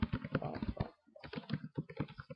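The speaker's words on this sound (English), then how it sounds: "I went to Google and just typed in," Fast typing on a computer keyboard, a close, dense patter of key clicks with a brief pause midway before the tapping resumes.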